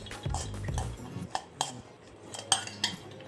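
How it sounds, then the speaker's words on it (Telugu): A metal spoon stirs ghee into sago in a steel pot, giving a handful of clinks and scrapes, loud and close, with irregular gaps between strokes and no talking. "నెయ్యి వేసి కలిపేసుకుందాం"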